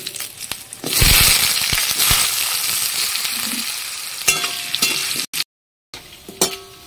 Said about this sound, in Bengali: আলুগুলো আমার মোটামুটি ভাজা হয়ে গেছে